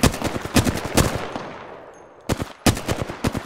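Rapid automatic gunfire in Apex Legends, loud close bursts of sharp shots with a brief pause before more clustered volleys resume.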